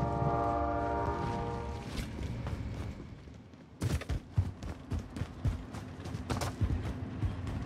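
A train in a Battle Royale video game sounds a long, loud horn, followed by rhythmic clacking and rumbling of rail cars passing close by.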